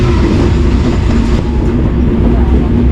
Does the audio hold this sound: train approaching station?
yes